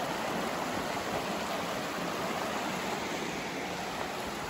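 Water wells straight out of the ground beside a cave and flows away as a stream, making a steady, broadband rushing hiss that stays at an even level, close and continuous, with no voices.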